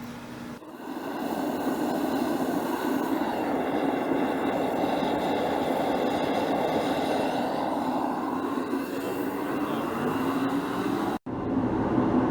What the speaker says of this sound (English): The waste oil is burning phenomenal in this thing.